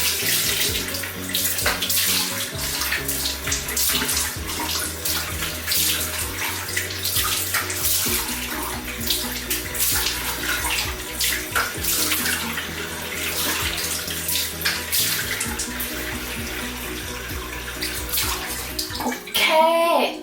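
A bathroom tap runs steadily while a face is rinsed with plain water, a loud continuous gush and splash close to the mic that holds throughout, with some faint background voice and a brief disturbance at the end.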